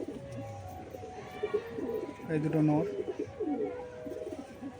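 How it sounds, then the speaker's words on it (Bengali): Male giribaz pigeons give low, rolling coos in a loft, one swelling coo rising clearly near the middle over a quiet background hum, with someone speaking briefly. "এইটা আর ওইটা নর পায়রা"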